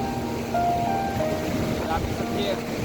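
Strong ocean waves driven by Typhoon Carina pound Nasugbu Beach, forming a constant, heavy roar of surf and wind noise that fills the short stretch without a break.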